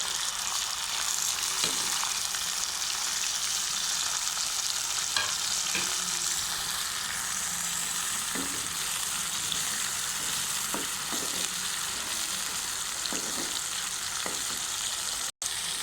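Onions with ginger, garlic and tomato sizzle and crackle steadily in a hot pan, a constant close frying hiss with occasional soft stirring scrapes.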